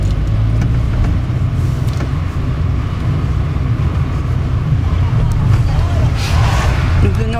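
A car drives through the streets of Pau, France, giving a steady low rumble of engine and road noise from inside the car. The sound is loud and fairly constant, with some faint background sounds near the end.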